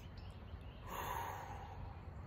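A single deep inhale drawn through the nose while breathing from the abdomen, a soft airy rush that swells briefly in the middle, close and quiet with no talking.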